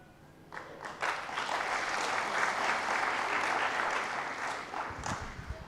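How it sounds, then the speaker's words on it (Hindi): Audience clapping at a motivational talk, a dense burst of applause that swells after a brief pause and holds steady for several seconds before tapering off. "सब लोग जोर से ताली बजाइए, ताली बजाइए।"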